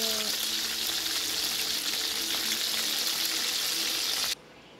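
Pork shanghai lumpia fry in hot oil with a steady, dense sizzle and crackle that fills the scene, then cuts off abruptly near the end.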